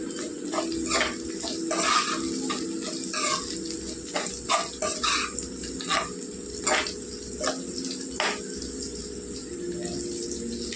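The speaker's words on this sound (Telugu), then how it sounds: "జీలకర్ర వేసుకుందామండి, 2 టీ స్పూన్లు అండి. కొద్దిగా వేగనిద్దామండి." Cumin seeds and green chillies frying in oil for dondakaya pachadi, a continuous close sizzle with bursts of crackling and spattering, no voices.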